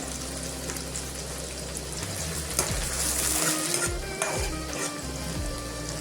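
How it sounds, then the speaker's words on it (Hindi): Chopped onions and two bay leaves hit hot oil in a kadhai and sizzle steadily and loudly, a close, continuous frying hiss with occasional stirring scrapes and pops. "इसी तेल पे मैं प्याज ऐड कर देंगे। दो तेजपत्ता ऐड कर देंगे।"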